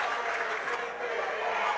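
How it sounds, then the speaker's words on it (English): Fans clap in a gym at a high school boys basketball district final between Southern Fulton and McConnellsburg, a dense, steady patter of applause held for under two seconds, moderately loud against the crowd. "the Spartans are clapping"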